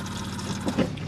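A motorhome cassette toilet flushes after a green button is pressed: a continuous rushing, gurgling wash of water from a small pump, steady and close for about a second.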